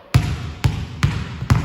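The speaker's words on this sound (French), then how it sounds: "on va simplement jeter sa balle de tennis vers le haut et dribbler vers le bas avec son ballon." Basketball dribbled downward in a home practice drill while a tennis ball is tossed up, giving four firm, evenly spaced bounces, close and loud with no talk.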